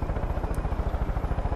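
A helicopter in the video game Far Cry 5 drones with a fast, even rotor throb, steady and moderately loud.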